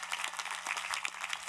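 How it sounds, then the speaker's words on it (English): Graduating students at a college commencement receive a steady, dense round of applause from a large crowd, continuous clapping with no pauses. "can we have one more round of applause for these exceptional students?"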